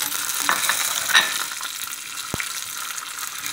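Mustard seeds, chana dal and curry leaves tempering in hot oil for a pachadi, giving a steady bright sizzle with a few sharp pops and spatters near the start, alone with no talk.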